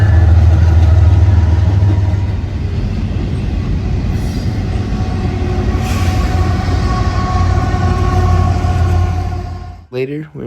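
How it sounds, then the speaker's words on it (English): A northbound Union Pacific intermodal freight train rumbles past loudly and steadily near Chicago, with a low engine drone and rolling wagon noise that cuts off abruptly near the end. "This northbound would be a northbound intermodal."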